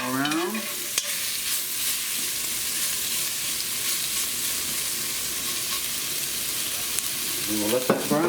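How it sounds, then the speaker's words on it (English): Floured lamb pieces frying in a little oil in a Dutch oven for stew, a steady, close, loud sizzle that holds throughout with a few brief clanks of stirring or utensils near the start and end. "Our oil is warming up in the Dutch oven, and get the meat in there."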